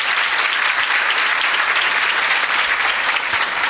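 Loud, dense applause for Manish sir, a maths and reasoning teacher, from a large audience at a coaching event, with sustained clapping filling the whole stretch.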